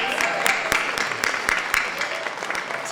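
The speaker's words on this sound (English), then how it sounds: "let's give Kristen a round of applause" An audience at a Sundance Film Festival editing celebration keynote bursts into applause, with dense, crisp claps rising and thinning slightly over a few seconds.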